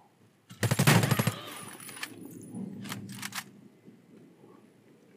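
KRISS Super V fired from the hip in Warface, a rapid burst of close, loud automatic shots, then several shorter clicks and bursts trailing off.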